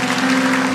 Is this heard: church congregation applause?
yes